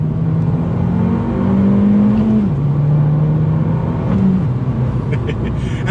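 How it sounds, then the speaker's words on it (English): Sporty exhaust note from a 2019 Abarth 595 Esseesse with its sport mode valve open, a steady engine drone that rises and drops as revs change, loud and close from inside the car. "the exhaust opens up with the sport button on"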